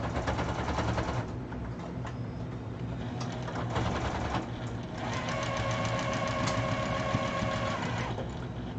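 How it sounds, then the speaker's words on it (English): A sewing machine stitches fabric for a long wall organizer, its motor whirring steadily and close in two runs, with a buzzing, higher-pitched stretch toward the end as the bobbin thread runs out. "I'm going to sew it from the top down."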